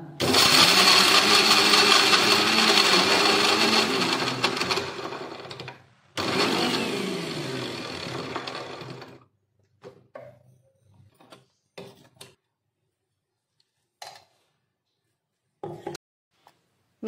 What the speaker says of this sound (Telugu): మిక్సీ అయితే పట్టేసానండి.